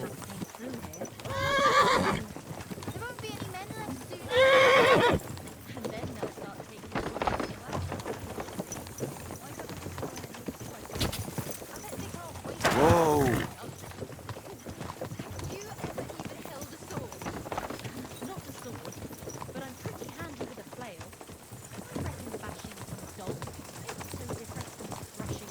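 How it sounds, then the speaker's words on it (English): Horses whinny loudly several times in a medieval setting of the Kingdom Come: Deliverance II video game, over a steady background of clopping hooves, with spoken dialogue between the neighs. "Nice horses you have there."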